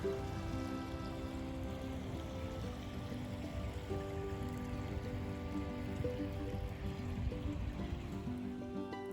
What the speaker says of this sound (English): like the sound of the water